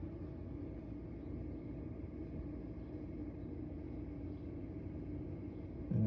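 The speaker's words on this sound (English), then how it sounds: "do you hear the engine sound?" A low, steady engine rumble drones faintly in the background, unchanging for several seconds, with a brief louder bump at the very end.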